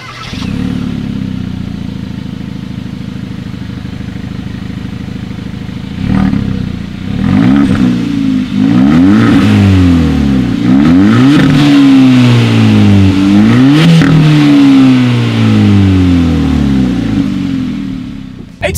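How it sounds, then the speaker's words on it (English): A 2019 Hyundai Elantra Sport engine idles steadily, then its exhaust is revved repeatedly in rising and falling sweeps, loud and close, with a final blip at the end. "I remember this exhaust note in the past sounding absolutely amazing, so I'm wondering right now if it is going to sound the same."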